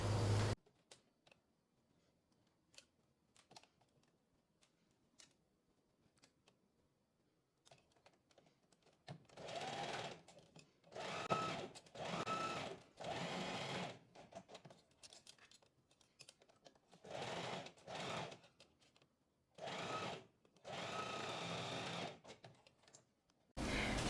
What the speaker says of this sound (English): So I'm going to start sewing here to the red pin, then I leave a gap, and then I finish down here.